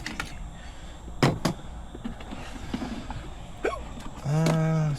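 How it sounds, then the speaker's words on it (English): Someone hiccups while feeding a mini worm bin: two sharp, quick hiccups close together near the start, followed by scattered small clatters and a steady humming tone at the end. "Didn't mean to film with the hiccups, and I'm sure it's annoying"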